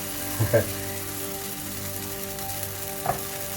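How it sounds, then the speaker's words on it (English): Soft, steady sizzling of oatmeal banana pancake batter frying in a hot pan, with a couple of brief clinks from a utensil. "You can hear the sizzling."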